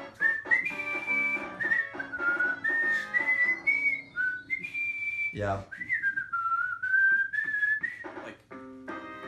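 Someone whistles a lively melody up close, with a brief thump in the middle and a single word spoken near the start.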